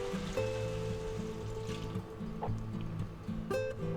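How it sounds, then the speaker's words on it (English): Beef stock poured into a stir-fry pan of garlic, a soft liquid splashing and bubbling with a brief clatter, close and fairly quiet, no talking. "to that we're going to add a little bit of beef stock"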